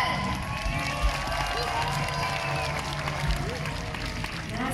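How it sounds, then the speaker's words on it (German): A crowd at a knight tournament in Speyer cheering and shouting in a steady, dense roar that holds throughout, with voices mixed into the noise. "Jubel!"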